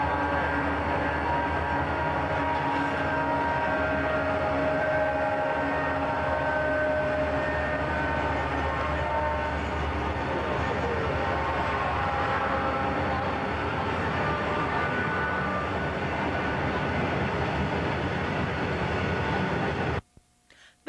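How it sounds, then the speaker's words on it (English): A heavy grain freight train hauled by several engines rumbles steadily past at close range in Essex, Montana, a continuous loud drone with engine hum that holds for the whole stretch before cutting off abruptly. "let's watch as these engines pull a heavy grain train past the Isaac Walton Inn"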